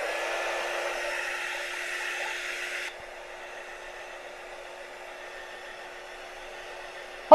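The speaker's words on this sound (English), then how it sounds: "You guys tell me if you can hear the heat tool." A heat tool blows a steady, airy whir while drying watercolor paint, loud and hissing at first, then dropping abruptly to a softer, quieter rushing drone that continues until a click at the end.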